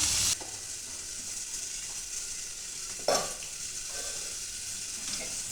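Tomatoes dropped into a pan of frying crushed ginger and garlic, a steady sizzle with a brief louder hiss as they land, then continued frying.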